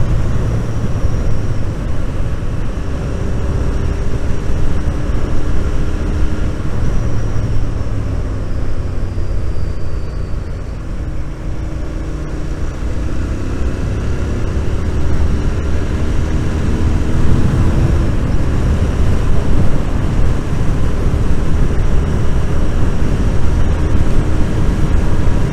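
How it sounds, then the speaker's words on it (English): A 2024 Royal Enfield Interceptor 650 motorcycle at a city tour ride event, its engine a steady low rumble with rising and falling tones as it revs and passes, loud and continuous. "It's a fantastic bike, isn't it? This engine."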